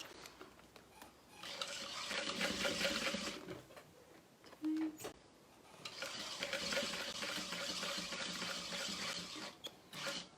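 A sewing machine with a thick needle stitches a bag, running in two steady whirring bursts of a few seconds each, with a short pause and a brief clunk between them.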